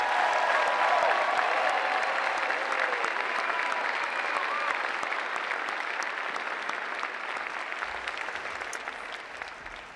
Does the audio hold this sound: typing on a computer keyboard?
no